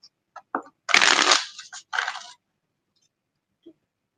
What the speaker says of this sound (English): Let me just shuffle the cards.